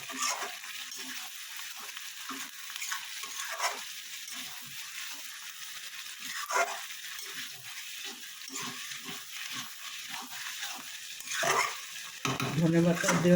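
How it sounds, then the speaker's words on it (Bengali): Egg curry with fresh coriander leaves is stirred in a pan, soft scraping strokes and a low sizzle recurring in an uneven rhythm, close and fairly quiet. "আমি ধনেপাতা দিয়ে একটু ভালো করে নাড়িয়ে নেব।"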